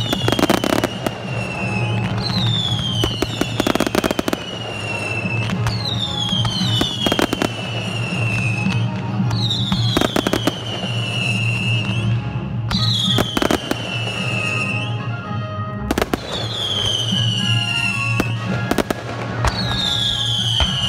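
Fireworks display at Vaux-le-Vicomte, with rockets whistling upward and bursting in repeated loud booms and crackling firecracker volleys, about every two to three seconds, over a continuous low rumble.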